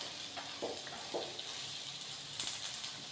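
Marinated potatoes frying in coconut oil, a faint steady sizzle with a few soft pops and clinks from stirring, no talking.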